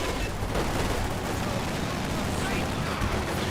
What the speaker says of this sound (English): Gunner fires, throws grenade there